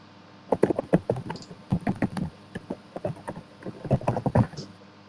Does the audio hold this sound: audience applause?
no